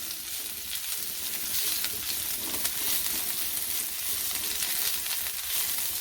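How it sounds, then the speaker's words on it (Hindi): Garlic frying in about two spoons of oil, a dense, continuous sizzle that crackles and hisses without pause throughout. "ये लहसुन हमारा अच्छे से फ्राई हो गया हुआ है"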